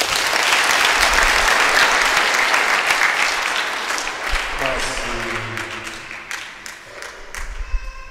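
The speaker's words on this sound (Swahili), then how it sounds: "Makofi kwao." A church crowd gives sustained, loud applause to welcome visiting priests and Christians from various parishes at a Lenten campaign launch. The clapping fills the space steadily, then thins toward the end while a voice speaks briefly over it.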